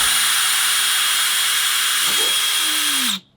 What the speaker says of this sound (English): Yeah, we're drilling, baby. I got the right drill.